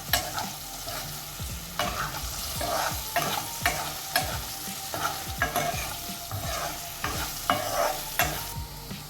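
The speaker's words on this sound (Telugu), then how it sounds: "వేగుతున్న ఆలుగడ్డల్లో ఉప్పు వేస్తే ఆలుగడ్డలు ఫాస్ట్గా మెత్తబడతాయి" Potato pieces frying with salt in a pan for an aloo capsicum curry, close and steady sizzling broken by regular stirring and spatula scrapes against the pan.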